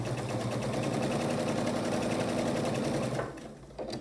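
A sewing machine runs steadily, stitching quilt block patches with a quarter-inch seam. The whir is continuous and close for about three seconds, then stops abruptly.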